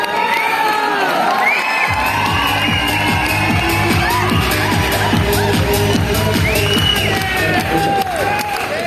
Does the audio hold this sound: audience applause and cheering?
yes